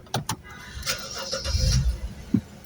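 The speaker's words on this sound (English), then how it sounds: "It starts the car." A BMW 5 Series F10 sedan starts by proximity key: a few soft clicks, then the engine cranks and catches with a short rising surge, settling to a steady idle, close by.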